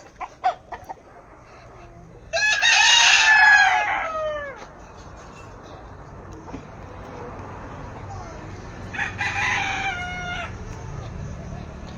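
A rooster crows twice outdoors beside a grandfather's house in Tacloban, the first crow loud and close, the second shorter and softer, with faint voices and yard noise between them.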